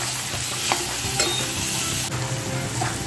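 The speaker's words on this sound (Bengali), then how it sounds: "এবার আমি এঁচোরটা দিয়ে দিলাম মশলার মধ্যে" Green jackfruit stirred into hot fried spice paste for a Bengali prawn curry, crackling and sizzling steadily close by while a spoon scrapes through it in short strokes, with no talking.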